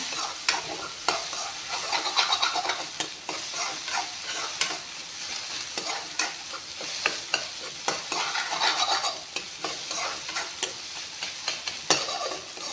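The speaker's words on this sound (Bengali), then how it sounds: "অকল কণীখিনি ভাজি ল'ম" Eggs frying in oil in a pan, a continuous bright sizzle broken by frequent scrapes and taps of a spatula stirring them, close and steady with no talking.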